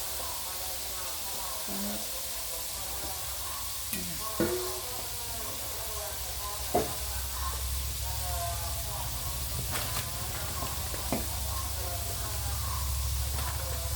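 Batter-coated crispy pork deep-frying in hot oil gives a steady, even sizzle and hiss throughout, with occasional small pops and utensil stirring, while someone talks over it.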